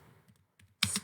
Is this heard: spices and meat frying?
no